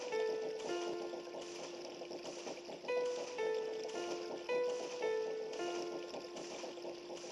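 Organ notes from Zelda: Majora's Mask 3D play a slow melody of sustained tones with steady pitch steps and low game ambience underneath, with no talking.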